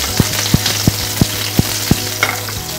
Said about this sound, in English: I will put some oil, toss some green chilies.